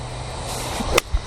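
A golf club strikes a ball on a full swing, one sharp crack near the end of a quiet stretch, followed a moment later by a soft thump.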